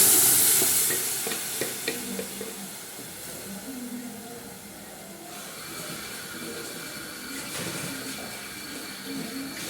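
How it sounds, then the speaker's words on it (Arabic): Chopped tomatoes hit a hot pan and are stirred, giving a bright, hissing sizzle that is loudest at first and then settles into a steady fry, with spoon scrapes and light clanks. "هنزل عليها بالطماطم."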